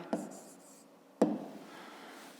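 Two brief pen strokes on paper while working a fifth-grade math exercise, close and quiet, separated by about a second with soft scratching trailing after the second.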